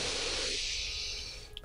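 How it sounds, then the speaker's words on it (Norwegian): One long, deep breath drawn in slowly through the nose during a yoga exercise for stiff shoulders and neck, heard up close as a steady breathy hiss that fades near the end. "Det er en dyp innpust."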